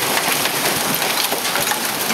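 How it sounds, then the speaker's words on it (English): Hail pelts down in Phoenix during a July storm, a dense, crackling patter of ice hitting surfaces close by, steady and loud without pause. "It's hailing July 20th in Phoenix."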